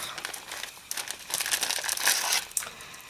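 Crinkling plastic wrap torn open from a package holding a scrapbooking stamp sheet with matching dies, with irregular crackling bursts swelling and fading up close over about three seconds, no voices.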